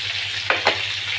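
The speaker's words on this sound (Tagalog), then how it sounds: "Pirito ko muna siya bago ko siya nilalagay din sa sabaw." Tilapia fish frying in hot oil, a steady close sizzle with two brief bursts of louder crackling as the fish is moved.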